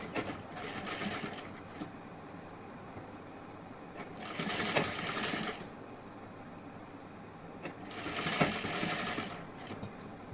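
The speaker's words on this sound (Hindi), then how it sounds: "इसी तरीके से हमें स्टिचिंग करनी है इस पे।" A sewing machine stitches a princess-cut blouse in two fast, rattling runs of about two seconds each, separated by quieter stretches of low room hum.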